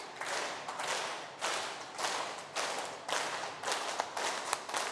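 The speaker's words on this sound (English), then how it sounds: "Clap more." A group of engineering students claps their hands during a yoga session, in steady repeated bursts of fast clapping separated by short pauses, moderately loud and without talk.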